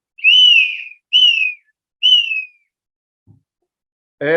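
Three long, high, descending whistle calls imitating an Amazonian eagle, loud and close, separated by short pauses, with a voice cutting in at the end.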